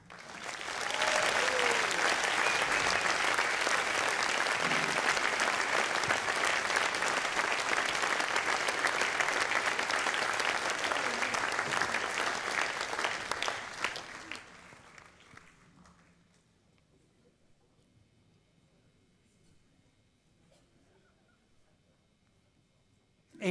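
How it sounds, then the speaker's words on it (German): Audience applause at a men's choir concert of Swiss-German dialect rock songs: about fourteen seconds of loud, dense clapping that gradually fades away into near silence with only faint room noise. "Und ihr, liebe Zuschauer, gebt ihm sicher noch einmal einen Applaus."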